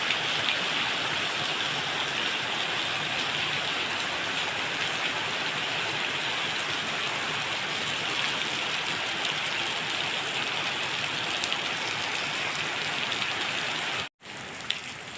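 Heavy rain pours down at a coal mine in southern Laos, a dense, constant roar of drops drumming on surfaces while floodwater rushes along. It holds steady and loud until a sudden brief dropout near the end.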